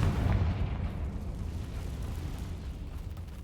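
A Confringo fire-spell explosion in Hogwarts Legacy thuds with a deep, moderately loud boom at the start, then rumbles away into a long, fading low roar with no voices.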